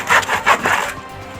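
Wood being sawn by hand as a sound effect for a class radio play, heard as three rhythmic rasping strokes that are loud and close, with no voices, before the sound fades to quiet.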